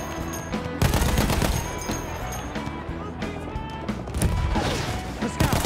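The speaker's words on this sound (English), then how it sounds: "Put about 50 bullets into that" Gunfire in the video game Battlefield 1, rapid bursts of automatic shots and heavy impacts crackling continuously with game action noise, a voice speaking briefly underneath.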